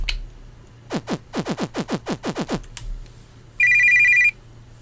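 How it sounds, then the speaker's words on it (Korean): An old telephone bell in the horror game Moshimo, Nee rings in a rapid series of about ten clangs, then a brief steady electronic tone follows, loud against quiet ambience. "아카리는 어째서 매번 전화한 거야?"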